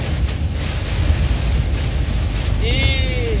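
Strong storm wind roars steadily around a container truck, a loud rushing broadband noise with gusty swells and a faint whistling tone near the end.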